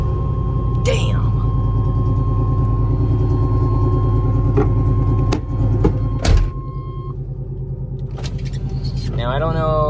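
A 1995 Chevy Suburban 2500 engine idles with a steady low rumble throughout, with a few clunks and a brief louder surge near the middle, then a rising whine at the end.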